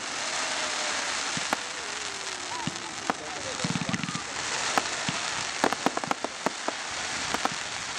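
Steady rain patters on a surface at a bonfire night fireworks display at Stoke Park, Guildford, with scattered sharper drips and taps standing out close by.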